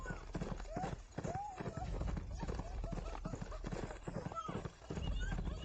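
Horse hooves clip-clop in a steady rhythm, close and loud, as a horse whinnies and people talk over the sound throughout.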